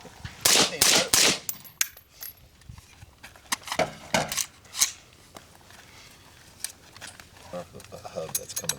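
Suppressed gunshots: a quick pair of sharp, fairly loud reports, then several softer muffled shots spaced out, people talking between them.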